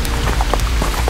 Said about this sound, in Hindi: ओह, लगता है बारिश और तेज होने वाली है।